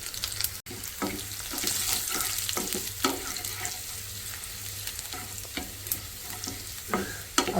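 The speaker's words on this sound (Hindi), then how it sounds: "डालेंगे 4 से 5 सूखी हुई मिर्चें, पहले इनको भूनेंगे।" Dried red chilies, chopped ginger, garlic and cumin seeds fry in hot oil for a dal tempering, crackling and sizzling steadily up close while a spoon stirs and scrapes the pan at irregular moments.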